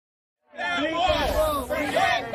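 Crowd noise from protesters at a street march, a dense, close babble of many voices that starts suddenly and holds loud to the end.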